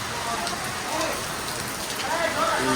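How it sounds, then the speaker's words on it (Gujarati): Steady rain patters on a surface, a dense hiss of drops with a faint voice or two underneath. "વરસાદ આવી ગયો"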